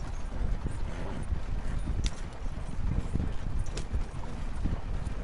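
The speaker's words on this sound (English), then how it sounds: "it's one horse trying to tow this big ass" A single horse in Red Dead Redemption 2 tows a big wagon across open plains, its hooves clip-clopping steadily under rolling wheel rumble and wind, with no voices over it.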